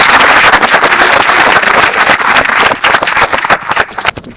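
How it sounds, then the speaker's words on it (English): Audience applause at an awards ceremony honoring teachers and students: dense, steady clapping from a large crowd, loud and close, continuing without pause and thinning slightly toward the end. "Let's have another round of applause."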